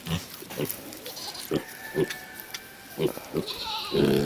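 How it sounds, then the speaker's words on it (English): Teacup pigs grunt and squeal in short repeated bursts, close and fairly loud, with voices talking among the calls. "here's a video featuring teacup pigs"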